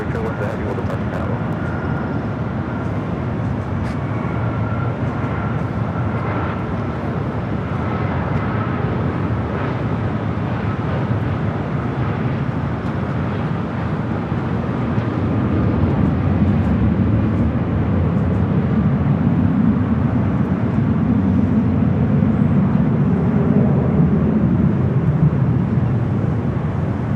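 American flight 644, an airliner, departs runway 24 left at Los Angeles International Airport; a broadband jet engine roar rumbles steadily, then swells louder in the second half as the aircraft powers up and rolls.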